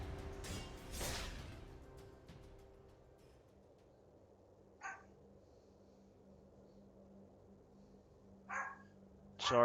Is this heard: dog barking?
yes